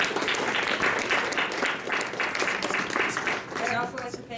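After a lecture, an audience gives another round of applause, with dense, steady clapping throughout and a voice rising briefly near the end.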